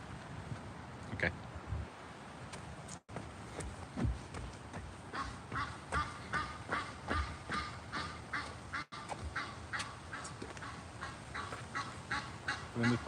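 Geese honk repeatedly at a moderate distance against outdoor background noise, the calls growing denser and more regular in the second half, with some faint voices in the mix.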